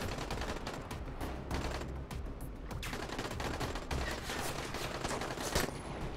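Rapid, dense gunfire from the zombie survival video game Dying Light: loud bursts of shots fired in quick succession, continuing almost without pause and close up.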